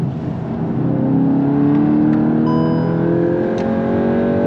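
A VW Golf 8 GTI Clubsport on the Nürburgring at speed, engine note rising steadily under acceleration with a smooth, loud whirring drone heard from inside, no speech.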